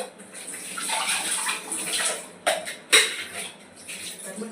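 Pots and utensils are washed under running water at home, a steady splashing flow with a couple of sharp clinks near the end.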